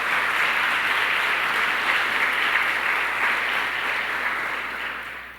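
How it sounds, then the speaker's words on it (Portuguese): A church congregation applauds in steady, dense applause that holds loud for about five seconds and thins slightly at the end, with no voices over it. "aplauda Jesus."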